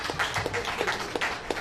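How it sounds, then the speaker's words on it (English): An audience at a launch event gives a round of applause, a brief burst of scattered, fairly quiet hand claps in a soft irregular rhythm, with no speech. "ladies and gentlemen, a round of applause for that"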